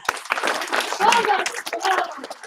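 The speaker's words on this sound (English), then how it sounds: "Now, give him a round of applause." A round of applause breaks out in a classroom during a timed basic skills exercise, with dense clapping from a group under the teacher's voice across the whole short stretch.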